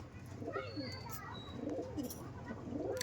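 Imported Oman Teddy pigeon cooing in repeated low, rolling phrases close by, with other birds chirping faintly and a steady background murmur throughout.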